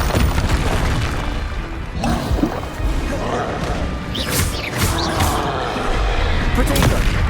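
Repeated Confringo blast spells explode in Hogwarts Legacy, a steady run of booming, crashing impacts over dense battle noise, with heavier bursts in the second half. A voice speaks over the action.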